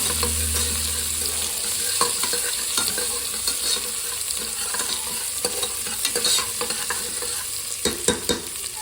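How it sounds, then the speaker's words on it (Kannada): Onions and kasuri methi frying in a pan, a steady close sizzle with repeated spatula scrapes and stirring clinks that grow busier toward the end. "ಎರಡು ಈರುಳ್ಳಿ ಒಂದು ಸ್ವಲ್ಪ ಕಸ್ತೂರಿ ಮೇತಿ ಹಾಕೊಂಡಿದ್ದೀನಿ ಫ್ರೈ ಆಗಲಿದ್ದು"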